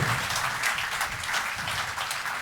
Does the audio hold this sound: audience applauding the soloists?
yes